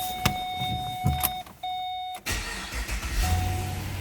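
A 2009 Pontiac G8 GT engine cranks and catches after chimes and clicks, then settles into a low steady idle, close by and alone.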